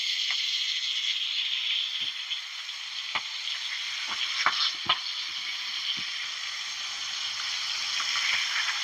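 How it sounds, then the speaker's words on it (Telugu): Chicken drumsticks frying in hot oil, giving a continuous close hiss of sizzling with scattered sharp pops and crackles from spitting oil, with no talk over it. "ఇగ ఇట్లా మెల్లగా పెట్టాలి. నూనె చిట్టుతది."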